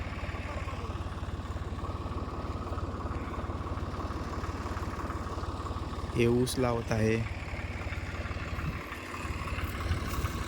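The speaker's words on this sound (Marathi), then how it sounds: "हे ट्रॅक्टर आता जात आहे." A diesel tractor on a sugarcane farm idles and pulls away to go ploughing, its engine a steady close rumble throughout while someone speaks over it and a brief chirping sound rises midway.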